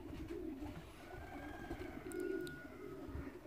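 Racing pigeons coo faintly outdoors in a low, murmuring trill that repeats over steady background noise, with a few faint chirps on top and no talking.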